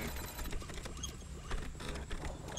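A cyberware implant machine in Cyberpunk 2077 whirs and clicks like a printer at work, with a busy, irregular mechanical chatter and small creaks running continuously at moderate volume.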